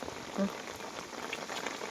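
Rain falling on a rice field makes a soft, steady patter and hiss that stays even and fairly quiet throughout.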